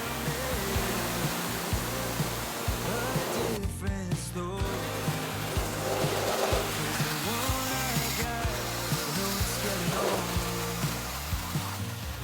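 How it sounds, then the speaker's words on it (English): A pressure washer rinses grime from a Lexus RX, its spray hissing as a steady, loud, broadband rush with small fluctuations throughout, no voices present. "I decided to start with a pressure rinse before my snow foam application to help firstly lift some of that grime"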